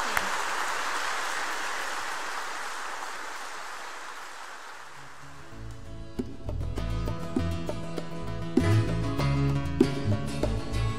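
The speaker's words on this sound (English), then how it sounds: "If you could just give him a round of applause." Applause from a church congregation at Sunday Mass at St. Mark, honoring a priest, Father Carter: a steady wash of clapping fading over the first half before organ-like tones and music take over.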